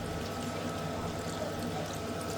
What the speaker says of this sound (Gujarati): ચલો હવે છે ને એમાં પાણી નાખી દઈએ.